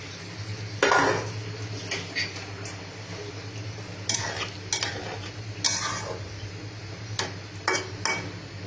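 Chhana and potato pieces sautéing in a pan: a low steady sizzle with intermittent clinks and scrapes of a utensil against the pan, close and fairly quiet, no talking.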